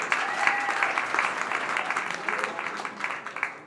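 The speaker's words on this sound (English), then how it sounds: "This is where you applaud." Audience applause for a presenter at a startup pitch event at Atlanta Tech Village, steady clapping from a moderate crowd lasting several seconds, fairly even and mid-distance with no talk over it.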